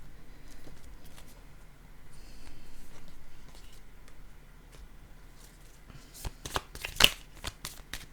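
Playing cards are shuffled for a card reading. Soft, faint riffling runs underneath for several seconds, then gives way to a few sharper, louder snaps and flutters near the end.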